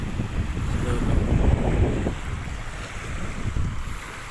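Wind gusts buffet the microphone at the Manila Bay seaside, a rough, rumbling blow that swells and eases over the sound of the water.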